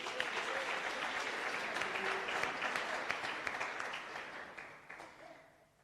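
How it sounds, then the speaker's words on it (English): An audience at a youth empowerment event applauds, a dense wash of clapping hands that holds strong for several seconds and then gradually fades out. "So give yourselves a round of applause"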